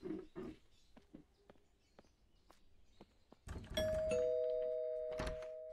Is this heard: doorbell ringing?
yes